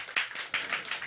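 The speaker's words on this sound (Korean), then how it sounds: "김영욱 집사님 박수 한번 해주세요" A Korean church congregation claps for a deacon, producing a short run of soft, evenly spaced claps that sound a little distant.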